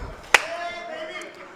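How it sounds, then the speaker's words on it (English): A single sharp hand clap rings out once in a pool hall during the commentary of a 9-ball open final, then only quiet room tone follows. "I'm going to give him a slow clap."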